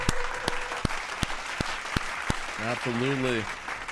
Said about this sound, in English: Clap it up again for Tiffy B